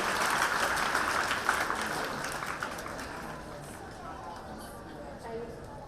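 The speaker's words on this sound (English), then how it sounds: "Clap students, please encourage them." Students at a school Founder's Day prize ceremony clap steadily for prize winners, a dense, continuous patter of many hands that holds through the whole stretch and eases slightly toward the end, with some crowd murmur mixed in.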